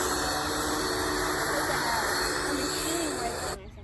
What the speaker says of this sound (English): No, that was a vacuum.